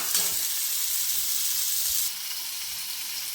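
Ivy gourd stir-fry sizzles in a pan over a medium flame, a steady bright hiss heard close and alone, softening slightly partway through.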